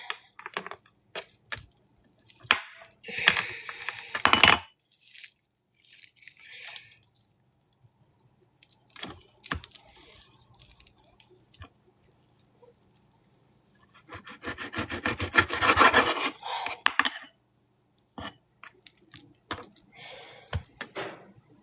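A knife slices through very fatty meat in a home kitchen, producing scattered bursts of wet scraping and rubbing strokes separated by quiet gaps, close and moderately loud.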